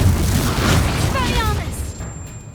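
A booming, crackling blast from the Confringo fire spell in Hogwarts Legacy rolls out over a low rumble, with a brief whooshing sweep as it fades and the game's ambient tones linger.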